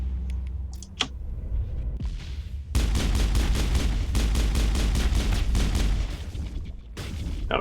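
Rapid gunfire from the video game Mass Effect, dense overlapping bursts that start abruptly after a quiet lead-in and keep up a loud, steady rattle of shots for several seconds, with a brief gap near the end before firing resumes.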